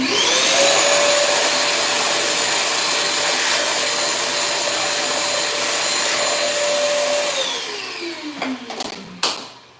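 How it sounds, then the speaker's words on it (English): A vacuum cleaner runs loud and close during cleanup in an apartment renovation, its steady whine holding constant before the motor winds down, followed by a couple of clunks and bumps. "And I'm going to vacuum every time I dust."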